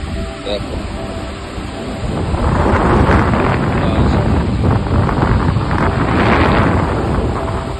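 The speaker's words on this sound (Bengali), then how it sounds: "এই যে সমুদ্র" Morning sea at Mandarmani beach: a steady broadband roar of surf and strong wind buffeting the microphone, swelling louder after the first two seconds and holding, with no talk.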